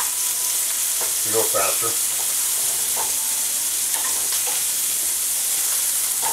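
A thick hamburger patty frying in a pan, giving a steady close sizzle and hiss throughout, with a few short clatters and a brief spoken phrase over it.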